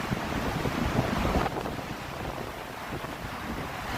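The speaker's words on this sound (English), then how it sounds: "Look at the waves." Rough waves on Lake Michigan at Oak Street Beach in Chicago on a windy October day, heard as a continuous loud roar of surf and wind buffeting the microphone, with no talk.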